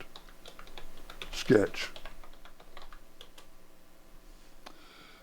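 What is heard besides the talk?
typing on a computer keyboard to rename a sketch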